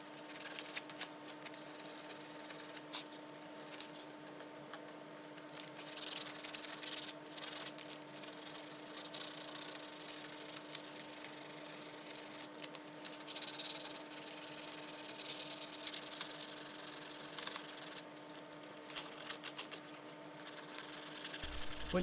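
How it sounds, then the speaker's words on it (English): Hand sanding of dried two-pack filler on a repaired, spliced skirting board: continuous rasping strokes rubbing back and forth over a long stretch, close and fairly quiet, over a faint steady hum, with no voices. "so you'll be sanding in no time"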